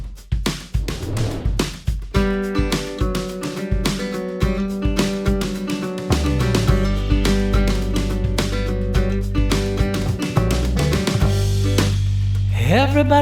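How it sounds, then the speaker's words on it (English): Home multi-track song recording with drums, bass, acoustic guitar and electric guitars, opening with sharp rhythmic strums before the full band settles into a steady, loud, continuous groove. "here's the sound of my multi-pass recording with drums, bass, acoustic guitar, a lead vocal, some background vocals"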